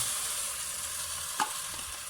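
Garlic frying with browned beef in a pot, a soft steady sizzle with a brief stirring knock partway through.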